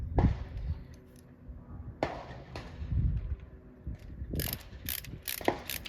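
A ratcheting screwdriver with a Phillips bit turns a screw on an 1860 revolver. It makes short bursts of sharp, close ratchet clicks separated by brief pauses.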